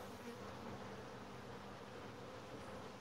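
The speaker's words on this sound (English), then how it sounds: "but quite a few bees on this frame" Honey bees on an open frame during a hive inspection, with drawn comb, pollen and nectar, keep up a steady, dense hum that stays close and even throughout with no talking.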